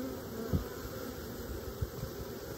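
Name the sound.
honey bees buzzing in a hive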